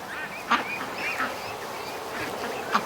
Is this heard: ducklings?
yes